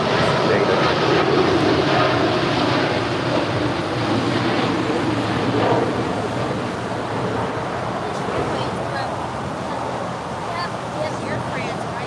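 An Air France airliner takes off at LAX with a loud, continuous broadband jet roar that stays steady and close throughout. Voices can be heard faintly beneath the engine noise.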